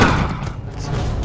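Gunfire in the video game Counter-Strike: Global Offensive: a brief, loud, close burst of shots that lands as heavy thuds, with no talk over it.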